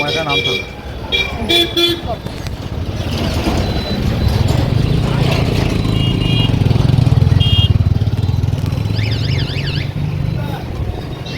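A motorbike rides toward a venue for a family celebration at night, its engine droning steadily under nearby voices, with short horn toots and mechanical clatter along the way.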